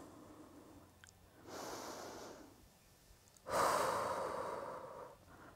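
Slow, steady breaths during a supported side-lying stretching exercise: two long airy exhales a couple of seconds apart, the second louder and closer, with no talking.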